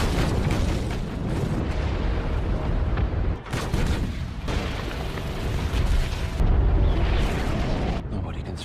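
Repeated heavy booms and rumbling explosions from US Navy cannon bombardment roll over one another, loud and dense, with a voice talking over parts.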